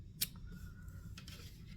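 A single quiet snip of scissors cutting crochet yarn, a short crisp cut against a soft background hum, followed by faint rustling.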